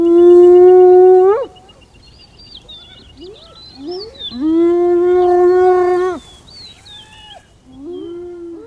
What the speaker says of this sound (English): The best-known call is the whoop, one of the classic sounds of Africa.